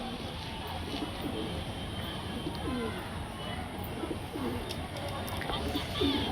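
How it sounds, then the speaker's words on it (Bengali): Young market pigeons coo softly at moderate distance over a busy outdoor background, with faint voices nearby and a few brief chirps. "এটা হচ্ছে বাচ্চা পায়রা।"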